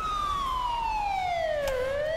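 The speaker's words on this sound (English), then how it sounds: "Apparently we can't cut the sirens." Fire truck siren wailing in a GTA 5 firefighter mod, a loud electronic tone sweeping steadily downward then rising again, alone without speech.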